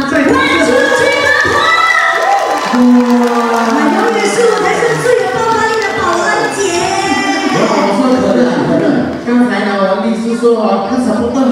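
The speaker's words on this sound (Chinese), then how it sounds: "能够让我再听一下你们热烈的掌声吗" A crowd at a Singapore getai stage show cheers and shouts loudly in a continuous roar, with excited voices rising over the noise.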